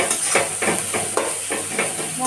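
Spices with garlic and ginger sautéing in hot oil give a steady close sizzle, with repeated stirring strokes scraping through it in an even rhythm.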